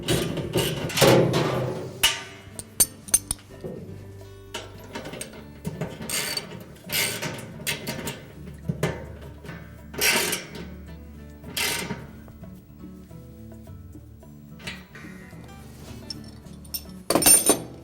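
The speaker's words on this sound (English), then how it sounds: "we can tighten them up individually. Again, we'll put the ratchet on the outside and just hold the head of the bolt on the inside." A ratchet tightens the tub bolts on a Whirlpool washing machine during a tub bearing kit replacement. Close, sharp metallic clicks and clinks come in irregular bursts, with quieter mechanical handling noise between them.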